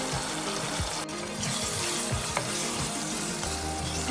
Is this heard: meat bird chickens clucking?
no